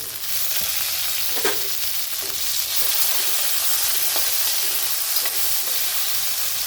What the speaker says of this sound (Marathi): थोडंसं कसं आपल्याला परतून घ्यायचं आहे टोमॅटो टाकू